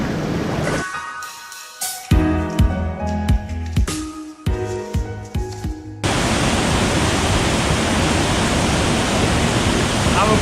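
Aling-Aling waterfall in Bali roars as a steady, broad wash of rushing water, close and loud, taking over after a few seconds of clattering, knocking movement sounds.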